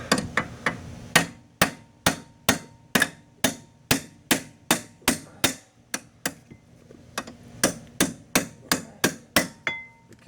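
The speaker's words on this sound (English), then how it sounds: "we're going to go ahead and hit this with a hammer" Someone hammers parts out of a PT Cruiser engine with a long run of sharp, evenly spaced metal blows, close and loud, about two per second with a few short pauses.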